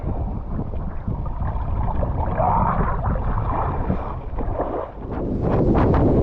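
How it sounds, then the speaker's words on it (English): Wind gusting over the Pieman River in Tasmania, heard as a steady, rough rush with buffeting across a small open dinghy, continuous and fairly loud with no voices. "the wind's picked up and the tide's coming in"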